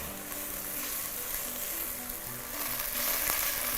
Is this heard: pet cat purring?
no